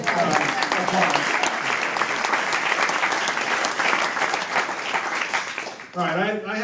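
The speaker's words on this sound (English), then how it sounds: "let's give her a subliminal applause." Audience applause at the Golden Pylon Awards ceremony, a loud steady burst of clapping filling the hall, then fading as a voice begins speaking at the end.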